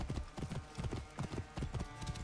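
Rapid, rhythmic hoofbeats of a galloping horse in Assassin's Creed Origins thud steadily and close, a brisk repeating clip-clop pattern with no voices.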